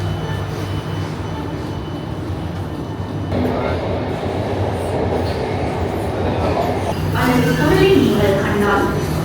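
Inside a Singapore MRT subway train, a loud continuous rumble of the carriage in motion with faint squeals rising near the end, while people talk over it.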